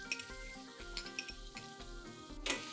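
Freshly cut tomatoes sizzle in a hot tempering for methi dal. A steady, close frying hiss is broken by rhythmic spatula stirring and light metallic clinks against the pot.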